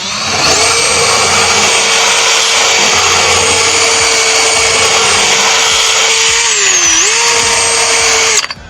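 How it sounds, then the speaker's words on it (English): A power drill fitted with a nylon wheel whirs steadily while cleaning paint chips and wood bits from window edging during a house renovation, loud and close, with a brief dip in pitch as it bogs under load near the end. "let me just hit it with the drill first. Just clean up the edging"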